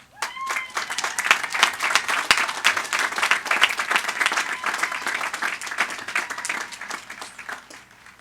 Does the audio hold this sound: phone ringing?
no